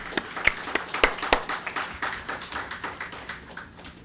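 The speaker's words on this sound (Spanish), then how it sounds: "Permítanme darles un aplauso por la bienvenida de ustedes, que se merece." An audience applauds in welcome at a talk on the financial crisis of football clubs, a fairly quiet, steady patter of many hands with a few sharper individual claps standing out near the start.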